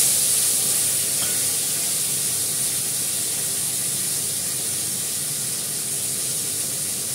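Flat beans and potatoes sizzle in a hot pan with bay leaf, giving a steady, loud hiss of frying that continues evenly at close range with no talk.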